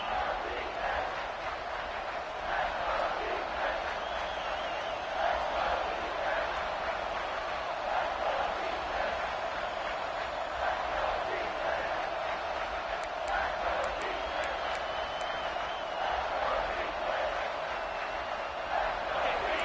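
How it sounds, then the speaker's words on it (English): A college football stadium crowd at a Boston College game roars in a steady, loud wash of cheering that swells in places and stays dense and distant throughout. "This crowd knows they have to bring it in big moments, and one of those has arrived."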